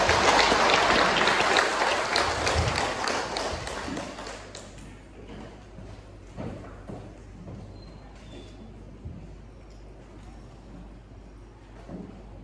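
Loud applause from a church congregation for a visiting pastor, strong at first and then thinning into scattered claps and faint shuffling over about twelve seconds.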